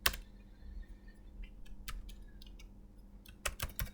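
Computer keyboard typing in a quiet room, a handful of separate keystroke clicks and short bursts spread across the moment with pauses between, fairly close but soft.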